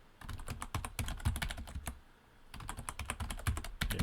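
Rapid keystrokes on a computer keyboard while a password is entered during Ubuntu Linux setup in a VirtualBox virtual machine, two close bursts of clicky typing separated by a brief pause.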